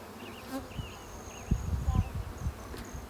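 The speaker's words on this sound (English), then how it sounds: "the bees will work their way on over there." A low, steady buzzing of a honey bee swarm hums close by, with rustling handling noises and soft thumps rising midway.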